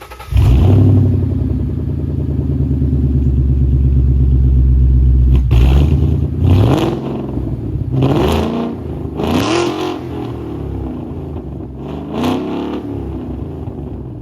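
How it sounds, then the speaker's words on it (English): A 2014 Ford Mustang GT with a Coyote engine and Borla mufflers idles with a deep, loud burble, then gets several sharp throttle blips that rise and fall one after another, close up and without talking. "I'm gonna give you guys a close listen on what the car sounds like now."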